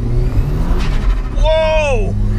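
Vauxhall Astra fitted with a Saab turbo engine pulling hard in second gear, a loud close engine drone rising in pitch as revs climb, over heavy low rumble and road noise.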